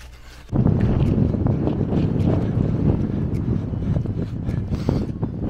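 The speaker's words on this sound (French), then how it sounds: "Un peu de vent en face les amis, un peu de vent de face" A headwind hits the microphone of a runner out on a training run, giving a loud, steady low buffeting roar that starts suddenly and continues without a break to the end.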